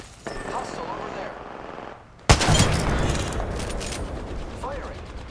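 Rapid automatic gunfire in the battle royale video game Apex Legends, with a loud burst of overlapping shots that trail off into continued firing after a brief lull.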